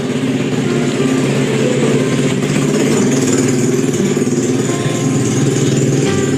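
Motorcycle engines, including Yamaha RX-King two-strokes, drone and rev on a busy Saturday night street, a loud, continuous, rough rumble close by with no break.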